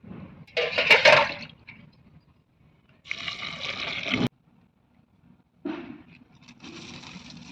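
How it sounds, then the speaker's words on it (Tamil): Water is poured into a cooking pot for boiling banana flower, three separate gushing pours with splashing, the first loudest, separated by quiet gaps. "நீர் கொட்டி தண்ணி ஊற்றி வேக வச்சுக்கலாம்."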